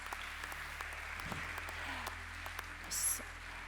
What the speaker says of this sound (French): On les applaudit chaleureusement pour tous ces prix reçus aujourd'hui.